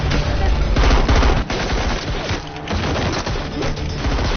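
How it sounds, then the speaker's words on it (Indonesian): Dense, loud gunfire from a gunfight in an Indian action film, with rapid automatic bursts and crashing impacts running almost continuously over a heavy low rumble, with brief dips between volleys. "Alhasil baku tembak pun terjadi."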